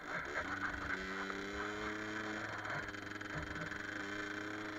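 A Gilera RCR moped pulls away in second gear, its small two-stroke engine droning steadily and loud throughout, with wind buffeting the microphone.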